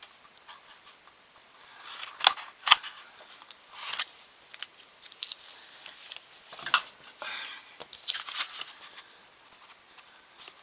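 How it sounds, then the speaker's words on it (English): Scissors snipping the corners off a craft piece, a few quiet, scattered crisp cuts and rustles with short pauses between them. "Right here, you're going to cut the corners off."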